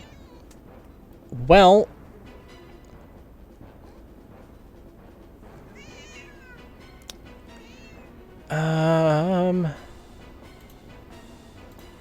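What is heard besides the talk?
cat meowing in the Path of Radiance video game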